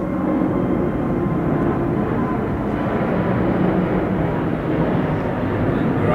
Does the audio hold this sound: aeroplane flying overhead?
yes